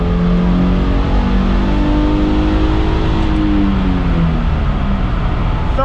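Subaru XV Crosstrek engine accelerating hard during a tuning pull, a loud continuous rising drone with climbing harmonics that holds steady for several seconds, heard alone without talking.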